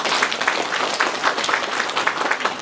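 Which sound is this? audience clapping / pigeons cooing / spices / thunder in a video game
audience clapping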